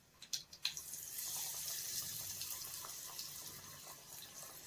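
Vegetable nuggets dropping into hot oil, a few quick splashy pops at first, then settling into a soft, continuous frying hiss that stays fairly quiet and even.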